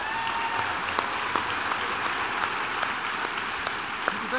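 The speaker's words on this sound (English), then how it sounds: "please give another round of applause to the president of the Planetary Society" An audience at an evening space-celebration event applauds steadily for the president of the Planetary Society, a broad, sustained wash of clapping with a few sharper individual claps standing out, and no speech over it.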